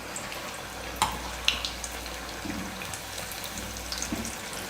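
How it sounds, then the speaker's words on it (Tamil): Stuffed idli-batter snacks deep-frying in hot oil in a kadai give a steady, soft bubbling hiss throughout, with a few faint clinks and taps of a ladle over it. "எண்ணெயை நல்லா காய வச்சுட்டு அதுக்கப்புறமா நீங்கள் பூர்ணத்தை மாவில் டிப் பண்ணி கடாயில் போட்டுக்கோங்க"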